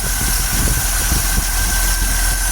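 A 1969 GMC C5500 farm truck engine idles close by, a steady low rumbling drone with an even pulsing rhythm, loud and alone.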